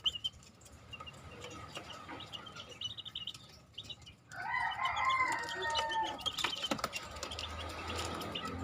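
Fifteen-day-old golden chicks peep in short bursts of high chirps from about four seconds on, with roosters crowing and hens clucking nearby in the background.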